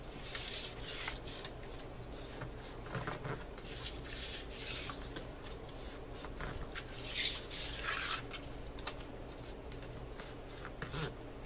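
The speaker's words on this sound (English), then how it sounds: "now go around and start folding your paper" Quiet, repeated rubbing and crinkling strokes come from paper being folded and creased along score lines for a chipboard box, in short irregular bursts with no talking.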